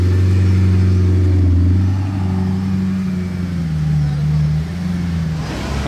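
Aston Martin DBS engine rumbling nearby with a steady low-pitched drone, rising and falling slightly as it rolls past, prominent and close throughout.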